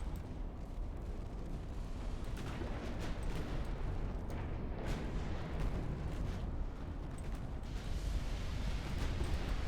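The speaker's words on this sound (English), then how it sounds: "Torpedo detonation on one of my ships." A torpedo detonates on a ship in the naval strategy game Ultimate Admiral Dreadnoughts, heard as a deep, rumbling blast that rolls on with sustained low roar and scattered cracks amid ongoing battle noise.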